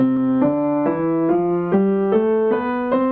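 A short run of ascending notes stepping up a major scale, played evenly on a sustained instrument, close and clear.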